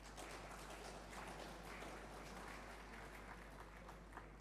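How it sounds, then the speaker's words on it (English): An audience at the closing ceremony of the KNUST 9th Summer School gives steady, even applause of many hands, fairly distant and soft throughout. "I would like that to be applauded"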